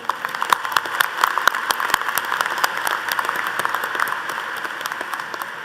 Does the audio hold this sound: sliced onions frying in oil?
no